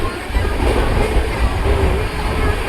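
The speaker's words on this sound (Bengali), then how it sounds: "আমাদের ট্রেন এখন জাজপুর কেওনঝড় রোডের দিকে যাচ্ছে" A moving passenger train heading toward Jajpur Keonjhar Road rumbles steadily with heavy low-end roar and constant rattling, heard from inside the carriage without a break.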